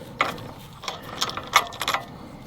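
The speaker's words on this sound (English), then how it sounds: "You just unscrew this knob right here." Plastic height adjustment knob on a lawn mower being unscrewed, giving a few short, close ratcheting clicks spread over a couple of seconds.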